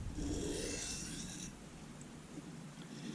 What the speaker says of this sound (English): very light pressure, just enough pressure to get the stone to cut, you take a pass